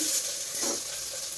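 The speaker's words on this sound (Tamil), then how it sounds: "இது வந்து வெங்காயம் நல்லா வணங்கட்டும்" Onions frying in a pan in a village kitchen, a steady close hiss of sizzling oil with no clear breaks.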